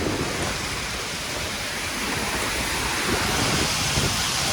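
Heavy rain pours down in a dense, steady roar of hissing noise, constant and close, with no voices.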